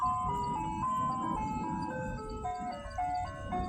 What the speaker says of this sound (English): Let me tell you about this ice cream truck